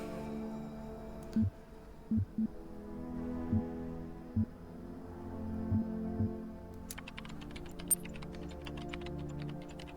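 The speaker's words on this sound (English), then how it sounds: "don't know what I'm typing" Keys clack on a computer keyboard in a quiet room, with scattered single taps over a steady low hum. A denser flurry of rapid typing follows near the end.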